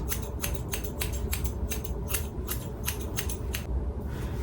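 Scissors snip curly hair during a short tapered haircut, about a dozen crisp, evenly spaced cuts close to the ear over a low background hum.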